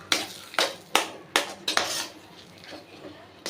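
Halwa with ghee is stirred in a pan, a metal spoon scraping and knocking against it in about six sharp strokes, close and fairly loud, over a soft background hiss.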